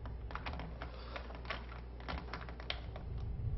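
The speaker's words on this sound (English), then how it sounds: "I'm pretty sure you guys can hear my keyboard" Steady typing on a computer keyboard during a horror video game session, with rapid clustered keystrokes clattering up close throughout and no talk over them.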